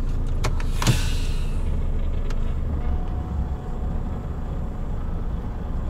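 A semi-trailer tipper truck reverses with its wheels slipping during unloading beneath high-voltage power lines. It makes a steady, close, loud engine rumble with a few brief clicks early on.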